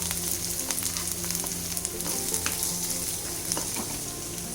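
Green chilies fry with onions in a pan for vegetable upma, a loud dense sizzle with crackling spits throughout and a few scrapes of stirring.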